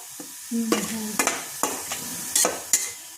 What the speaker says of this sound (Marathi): कढईत ना हे भाजून घेऊ